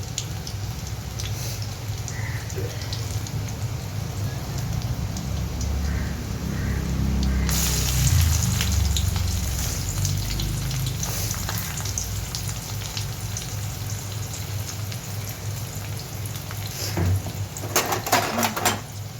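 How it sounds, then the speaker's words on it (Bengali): Chopped onion frying in a pan for an eggplant chutney, a steady sizzle under low background hum that grows fuller after a few seconds, with faint clinks near the end and no talking. "এটাকে একটু ফ্রাই করে নেবে ব্রাউন কালার যত সময় না আছে"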